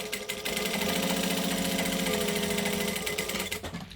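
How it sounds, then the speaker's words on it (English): A sewing machine runs a line of decorative topstitching on fabric, a close, steady mechanical whir that starts up, holds for several seconds and winds down. "I'm just going to top stitch both sides of the line to make it super decorative"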